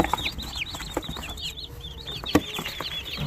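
Day-old chicks being set down on the floor of a brooding area, a busy chorus of high, rapid peeping close by, with soft handling bumps and one sharper knock.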